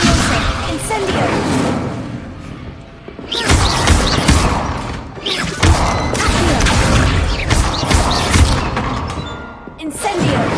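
Incendio spell casts strike practice targets in Hogwarts Legacy, giving loud, dense bursts of fiery whooshes, thuds and crashes that run almost continuously, with short dips between casts.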